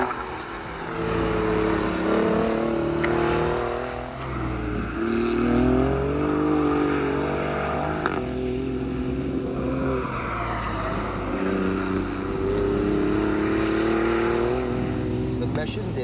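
An Alfa Romeo Giulia Quadrifoglio engine revs and accelerates through rising and falling gear pulls, its loud throaty drone steady throughout, with a voice speaking over it.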